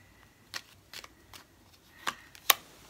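Tarot cards are shuffled by hand in a quiet room, giving about five separate short, crisp riffles and snaps spaced irregularly between near silence.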